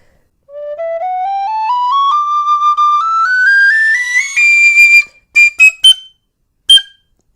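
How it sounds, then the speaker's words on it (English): A shrill Tony Dixon DX005 tin whistle climbs step by step through rising notes into a piercing high register, then sounds a few short, sharp high blasts before stopping. "this whistle will hit notes that all my other whistles won't"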